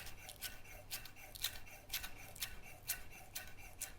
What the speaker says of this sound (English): We're gonna cut it into really nice thin